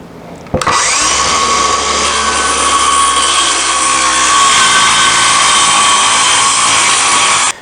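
A power saw cutting the back off an old wooden sled, starting abruptly and whining steadily at high pitch for several seconds before cutting off, loud and close with no talk.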